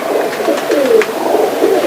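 A pigeon given as a gift coos close by in soft rolling low phrases, a steady throaty murmur with a few brief higher flutters.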